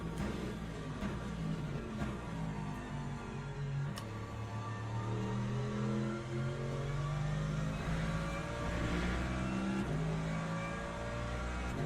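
Porsche race cars lap in wet conditions in Le Mans Ultimate, their engines droning and revving in overlapping layers as several cars run close together. The sound stays steady and loud throughout.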